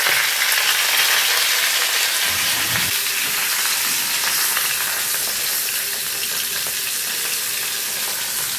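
Fish sizzling and spitting in oil in a hot pan in a home kitchen, a dense continuous crackle that stays loud and close throughout, with a faint stir around the middle.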